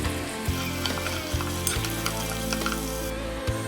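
Onions, chopped scotch bonnet and locust beans fry in hot oil for seafood okro, giving a loud, steady close-up sizzle with occasional stirring scrapes and no voices.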